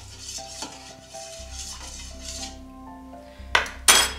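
A spoon stirs sugar into warm liquid in a glass bowl for gluten-free bread, soft ringing clinks and scraping building to two sharper clatters near the end, with no voices.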